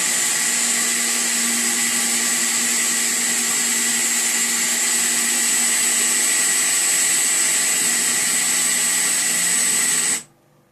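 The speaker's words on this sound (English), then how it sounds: "there are a lot of horns that if you download them, they make a horrible hissing sound because of a sound glitch." Glitched train horn in Train Simulator 2012 gives a harsh, steady broadband hiss with a faint tonal whine, loud and continuous for about ten seconds before cutting off abruptly.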